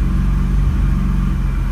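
A BMW E36 engine idles roughly with a low, steady rumble and an uneven throb, heard close and loud with no talking.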